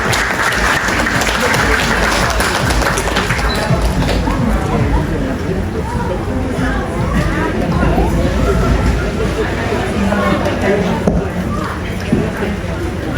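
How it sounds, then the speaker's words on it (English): A crowd applauds at a breast cancer Pink Tea Party fundraiser in Majuro. Loud, continuous clapping runs throughout, blended with chatter and voices from the gathering. "May we give him a round of applause?"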